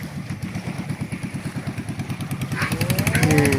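A motorcycle engine runs with a fast, even putter of regular pulses, swelling louder near the end as it revs up with a faint rising whine.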